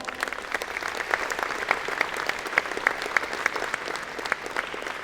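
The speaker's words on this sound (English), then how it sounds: "Please stand and let's give them a big round of applause" A convocation audience at a College of Engineering & Computer Science ceremony gives a standing round of applause, sustained, dense clapping with sharp individual claps standing out, fairly loud and continuous.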